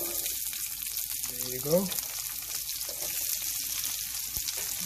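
Onions going into a pan of oil with browned urad dal for keto lupin-flour upma, giving a steady frying sizzle with a brief clatter as they drop in, while a voice speaks a few words.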